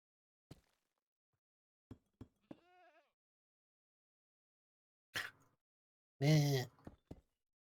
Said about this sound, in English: Those goats crowing in the background.